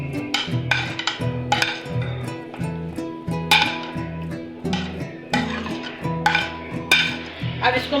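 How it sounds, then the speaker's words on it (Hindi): Spoon clinks and scrapes against a bowl while egg, moong dal, mashed potato and green spice pakora batter is mixed, with repeated close knocks in an uneven rhythm and a faint steady hum beneath. "अब इसको मैं मिक्स करती हूँ"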